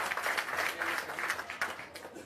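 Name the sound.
audience applause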